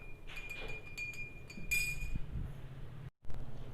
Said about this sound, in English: add 1 teaspoon of sugar in it and stir it till that sugar is dissolved.